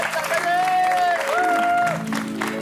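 A group of people clap together in a lively indoor gathering, steady applause mixed with voices talking and calling out over it.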